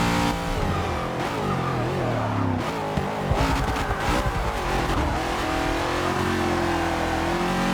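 Race car engines in the Forza 6 video game, continuously loud and close, revving up and down through gear changes with rising and falling whine and brief tire squeal over nearly eight seconds.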